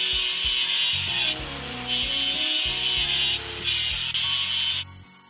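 Rust is scraped off a digging machine in a series of harsh, rasping strokes, each lasting about a second, with short pauses between them. A low, steady tonal backing runs underneath.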